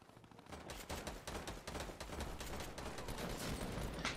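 Rapid gunfire from the video game Fortnite, played on Nintendo Switch, rattles as dense sustained bursts of shots, steady and loud throughout with no voices.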